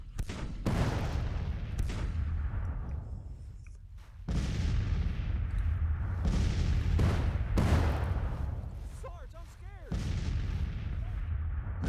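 Deep booming cannon shots from artillery batteries in the Civil War strategy game Grand Tactician: The Civil War, several loud reports spaced a second or two apart, each followed by a rumbling decay, with faint voices underneath.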